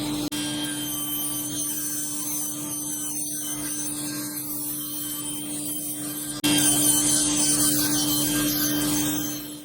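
A bandsaw rips reclaimed wood boards to width, a steady close whirring cut with a fixed motor hum that jumps louder partway through as the blade bites harder into the board.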